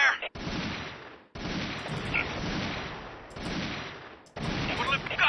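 Dense gunfire from the Army Men RTS video game, sustained rattling bursts that fill most of the stretch, broken by a few brief near-silent gaps.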